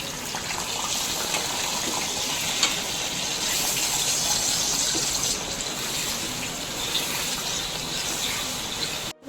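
Potatoes and green banana fry in hot oil with a dense, steady sizzle and crackle that runs loud and unbroken throughout, with no talking.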